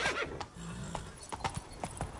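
Horse hooves clip-clop in The Witcher video game, a few close, uneven hoofbeats on hard ground with a brief neigh or snort at the start.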